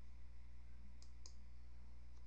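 Two quick, faint mouse clicks on a computer button, a short double tap set against a steady low electrical hum, followed by a softer third click.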